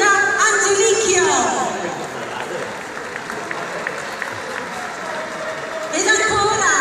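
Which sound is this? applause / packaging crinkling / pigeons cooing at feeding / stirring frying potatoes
applause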